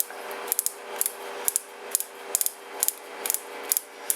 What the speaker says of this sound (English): we're going to take our wing nut off at the front